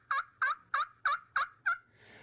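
An anodized turkey call nicknamed screaming Mimi, a long-distance call, gives six loud, sharp, evenly spaced yelps in a quick rhythm, close and clear, then cuts off.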